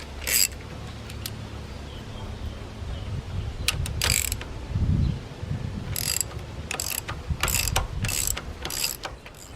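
A ratchet clicks in quick bursts while loosening head bolts on a Ford 8N tractor. The clicks are close and sharp, broken by pauses and a low creaking rumble.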